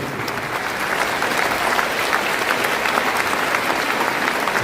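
Warm applause for the mayor of Incheon at his farewell ceremony, a large audience clapping in a dense, even roar that holds steady and fills the hall.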